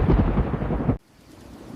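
Heavy rumbling thunder and steady rain of a savanna thunderstorm, loud and dense for about a second, then cutting off abruptly to a faint low background.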